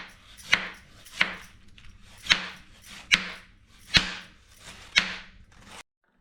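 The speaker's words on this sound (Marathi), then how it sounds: "कोबीला सुद्धा काय करायचं आहे आपल्याला असं पातळ कट करून घ्यायचं आहे" A knife slicing cabbage thinly on a cutting board, six crisp chops landing at a slightly uneven pace about a second apart, close and clear with soft rustling between strokes and no talk.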